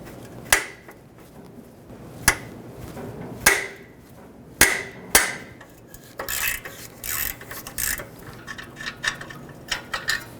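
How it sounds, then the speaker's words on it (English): Socket hammered onto a rusty nut on the right rear catalytic converter of a 2013-2020 Nissan Pathfinder: several sharp metallic strikes spaced a second or two apart, then a run of quicker rattling taps and scraping, close and fairly loud. "I'm actually going to put a 14 and hammer it on"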